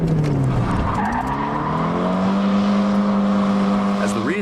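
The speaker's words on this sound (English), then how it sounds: "You go into the corner, give the handbrake a yank, counter steer." A car drifts through a corner on a handbrake turn, its tyres letting out a loud, sustained squeal that wavers in pitch over the engine's drone, with a brief squeal flare at the end.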